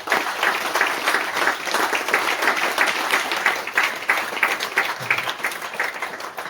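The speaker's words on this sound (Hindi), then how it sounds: "एक बार सर के लिए जोरदार तालियां" Applause from a seminar audience: a steady, energetic round of many hands clapping, close and loud, continuing evenly for several seconds.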